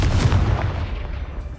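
Fiery explosive blast from the Confringo spell in the Hogwarts Legacy video game, a loud booming rumble that fades out over under two seconds, with no voices.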